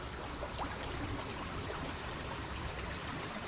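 A small creek flows steadily with a continuous close trickling and babbling water sound and no voices.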